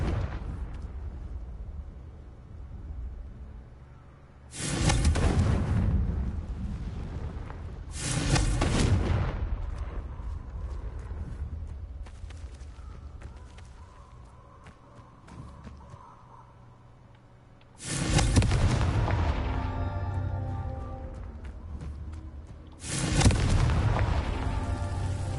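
Confringo fire spells from the video game Hogwarts Legacy go off as heavy booming blasts, four loud bursts at uneven intervals, each with a rumbling tail, and quieter game ambience in between.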